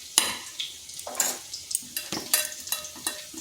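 Ground lentil paste being beaten by hand with salt and a few grains of sugar, giving a run of quick, close scraping and slapping strokes in an uneven rhythm against a bowl, with no talking.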